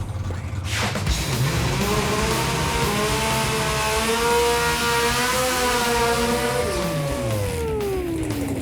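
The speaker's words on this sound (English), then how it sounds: "Stan, do you know what we say about the burnouts on Pastime? Burnouts never lie." A Chevy S10 drag truck doing a burnout at a drag strip, its engine revving hard and climbing steadily in pitch, loud and close with no talk over it.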